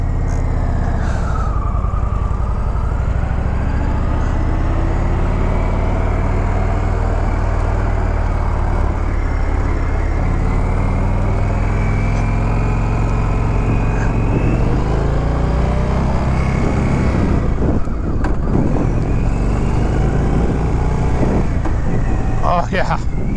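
Engine of a 2021 Indian Chief Dark Horse cruiser motorcycle on a test ride, a loud, steady low rumble with shifting revs and wind buffeting near the end, as a rider talks over it.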